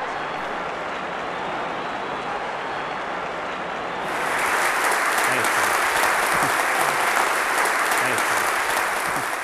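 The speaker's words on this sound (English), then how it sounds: "I really appreciate that introduction, Brian, and that great round of applause." A big audience round of applause for a speaker, a steady dense wash of clapping that swells louder partway through and keeps going strongly to the end.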